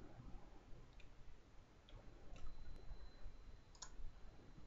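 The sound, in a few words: mouse clicking while using SketchUp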